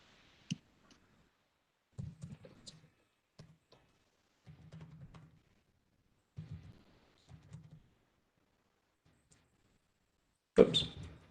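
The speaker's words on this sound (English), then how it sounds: "Just leave it up to your typing skills" Typing on a computer keyboard in a quiet room, heard as sparse, short bursts of clicks spread out with silent gaps between them, ending in one louder knock.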